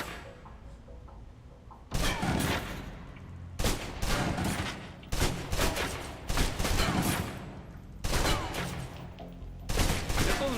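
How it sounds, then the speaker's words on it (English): Submachine gun in the Alpha Protocol video game fires a full magazine in several loud sustained bursts separated by short pauses, with no talking over it. "move on to the submachine gun"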